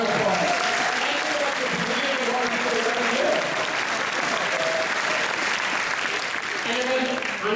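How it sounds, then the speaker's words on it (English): Sustained loud audience applause fills a theater at a Midnight Madness film premiere Q&A for The Guest, dense clapping throughout with voices and cheers mixed in. "a round of applause"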